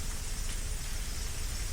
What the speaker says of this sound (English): Oh, right, it's raining.